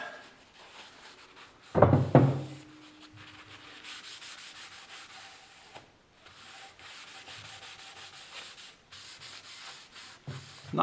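Rag rubbing and wiping glue off a wooden toothing plane build on a workbench, a burst of scraping friction followed by quieter, steady rubbing strokes with a few soft knocks, close and alone.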